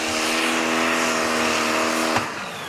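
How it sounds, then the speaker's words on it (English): Pro Stock drag car at the European Championship launching hard from the line at full throttle, a loud, dense engine roar with rising harmonics held for about two seconds, then a sharp crack and the engine note dropping away. "No messing, hard down with the throttle."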